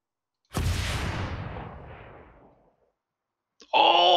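In the ArmA 3 video game, a wire-guided missile fires with a sharp loud launch and a long rumbling trail that fades over about two seconds, followed by silence and then a sudden burst of new noise.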